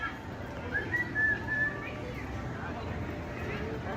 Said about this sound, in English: Sorry, but somebody was whistling.